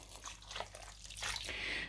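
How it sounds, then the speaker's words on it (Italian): Water is poured onto bread in a bowl to soak it for homemade hamburger mix, giving a soft, close, brief splash and trickle with no talk. "aggiungo dell'acqua per bagnare il pane"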